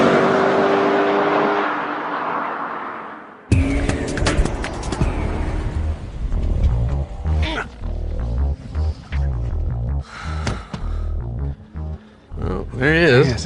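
Fast-driven road car pushed as if on a racetrack, engine revving and surging with rising and falling pitch, loud and close, with people talking over it.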